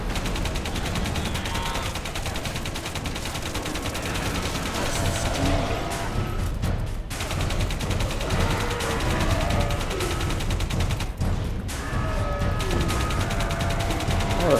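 Gunfire in the Alien Breed 2 Assault shooter game, continuous rapid bursts and clattering shots that run loud and unbroken throughout, with brief dips between volleys.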